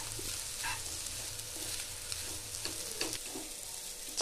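Egg noodles fry in a pan with soy sauce and salt, giving a steady, close, loud sizzle with scraping stirs throughout and no talking.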